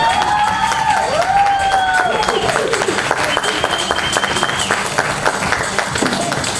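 Sustained applause from a pageant audience greeting the newly crowned 2021-2022 national royalty, dense and loud throughout, with cheering voices and a few whistles rising above the clapping.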